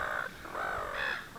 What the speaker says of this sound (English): Excuse the birds if they're getting in their way.